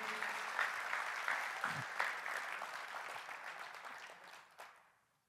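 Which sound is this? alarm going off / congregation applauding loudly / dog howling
congregation applauding loudly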